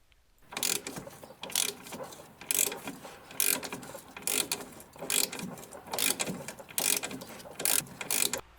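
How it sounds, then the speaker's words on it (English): Ratchet wrench undoes the small bolt holding the brake flex hose to the front strut of a 2007 Chevy Equinox, a close, rhythmic series of clicking ratchet strokes, about ten bursts with brief pauses between. "I am going to undo this little bolt that holds the brake flex hose to the strut."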